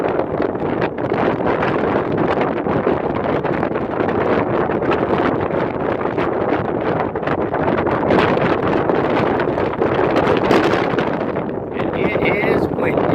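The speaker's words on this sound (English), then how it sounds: "And it is windy." Steady wind buffets the microphone at a high viewpoint overlooking downtown Baton Rouge, a loud continuous rushing roar that barely lets up.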